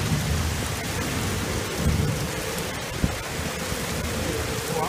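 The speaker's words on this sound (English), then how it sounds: "the rain's coming" A beach thunderstorm brings steady heavy rain hissing over everything, with low rumbles of thunder rolling underneath and one sharp crack near the middle.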